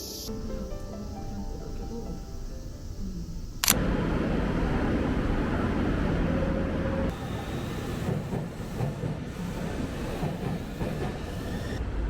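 A metro train in Japan bound for Shibuya rumbles steadily along, with a sharp shift partway through as the rolling noise changes, continuous and fairly loud throughout.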